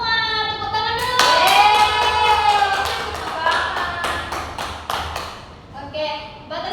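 Elementary schoolchildren in a classroom clap their hands in a series of irregular, sharp claps. Voices and sung tones run underneath and between the claps.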